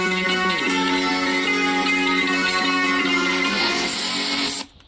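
Electric guitar cover of a song played through a clean Guitar Rig 4 preset in Cubase LE, sustained ringing chords with shifting notes over a full backing mix, steady and loud before fading out at the end.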